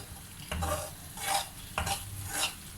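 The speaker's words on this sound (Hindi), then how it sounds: "सूजी हमारी भून रही है।" Semolina roasting in a pan for halwa, with cardamom and sugar nearby, gives a soft dry sizzle broken by two bursts of stirring scrapes, close and moderately loud with no talking.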